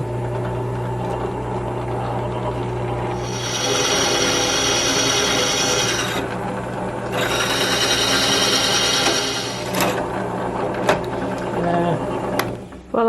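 A power drill bores into a log for a log staircase in two sustained whining bursts of a few seconds each, with quieter handling noise and brief knocks between them.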